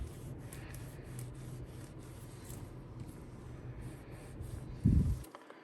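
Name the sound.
microfiber cloth wiping glue off smartphone screen edges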